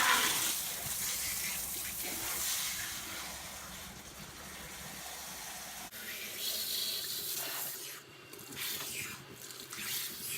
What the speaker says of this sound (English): I just make a little cup and thoroughly cleanse all of the shampoo away.